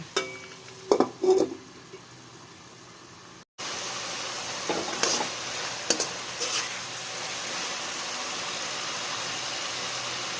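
Chicken and pineapple for pancit canton cook in a covered pan, giving a soft, steady sizzle with a few clattering knocks of the lid and utensils near the start.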